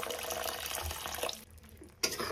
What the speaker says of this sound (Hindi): वर्तमान मसला रे हमें हल्का गरम पानी दे दवा।